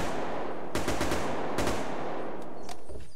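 Bursts of automatic rifle fire from a low-recoil, small-magazine weapon in the Unturned video game: several short rapid volleys with brief pauses between them, loud and close over a steady background hum.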